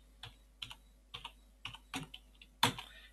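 Keystrokes on a computer keyboard while entering git commands, arriving in several short, close-miked bursts of clicks separated by brief pauses, with no talking.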